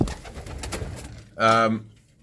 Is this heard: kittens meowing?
no